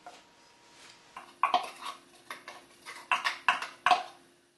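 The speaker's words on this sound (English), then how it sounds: "the onion, garlic, ginger and chilli mix is beginning to fry up in the oil" Onion, garlic, ginger and chilli paste frying in vegetable oil in a pan, with a steady sizzle broken by several loud, close clatters of utensils against the pan.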